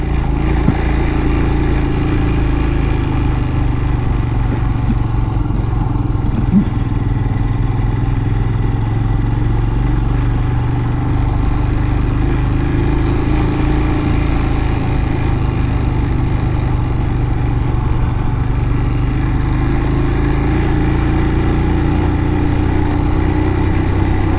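A motor vehicle engine labours in first gear on the climbing approach to Zojila pass, a loud, steady low drone with a mechanical clatter that runs unbroken and with no voices.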